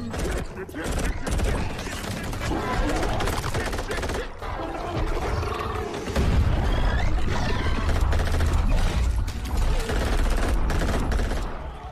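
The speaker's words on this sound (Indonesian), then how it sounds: "Lalu mereka pun mulai menembaki monster itu." Gunfire at monsters in a war film about aliens invading Earth, rendered as dense, loud bursts of rapid shots and booms layered over a continuous roaring battle soundtrack.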